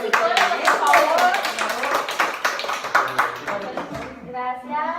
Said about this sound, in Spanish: un aplauso para nuestros psicólogos, por favor